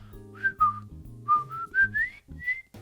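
Whistled marching tune in a military, fife-and-drum style, like the Recess cartoon intro: clear melodic phrases over a steady low drum-like beat, played loud and close without talk.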